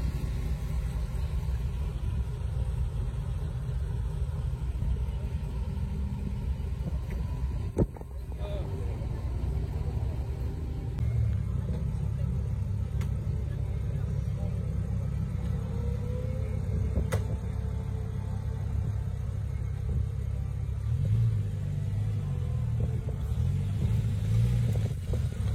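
A Porsche V6 engine idles and rumbles in a steady low drone at a classic car event, with crowd chatter and voices over it throughout and a brief sharp knock partway through.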